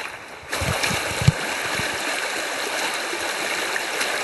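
Fossil Creek water rushing steadily and continuously, a broad even wash of flowing water with a few soft low thumps early on.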